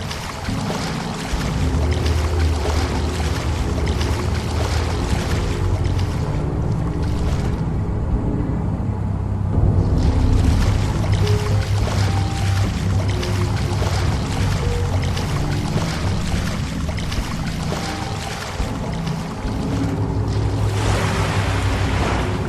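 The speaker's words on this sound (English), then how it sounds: "More freezing water." Freezing water rushes and splashes steadily in The Fidelio Incident game, a loud continuous wash of surf-like noise with a low rumble underneath, briefly thinning midway before surging back.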